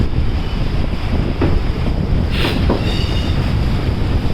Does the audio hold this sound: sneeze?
no